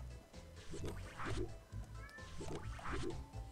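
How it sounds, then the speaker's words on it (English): A cat meows quietly a few times in short, repeated calls over a soft, busy background. "I think I hear a cat, you know."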